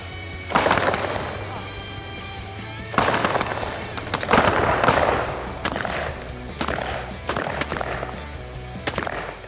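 Rifles fire on a 50-meter army training shooting range in Singapore, with sharp, loud shots cracking out in scattered bursts and single reports across the stretch, echoing over steady background noise.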